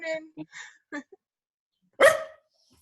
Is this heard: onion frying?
no